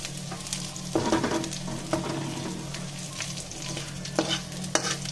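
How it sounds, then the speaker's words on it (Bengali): Garlic cloves frying lightly in oil until reddish, for a dried-fish mash: a steady low sizzle with occasional clinks and scrapes of stirring, close and moderately loud, no voices. "হালকা করে বেজে নিয়েছি, দেখতে পাচ্ছেন হালকা হালকা লাল হয়েছে"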